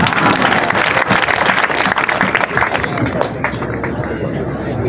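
A congregation breaks into loud, sustained applause and clapping after a prayer, with crowd babble mixed in throughout the burst.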